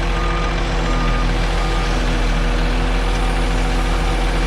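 A truck reverses with repeating backup beeps over a steady idling engine rumble, continuous and fairly loud throughout, with no talk.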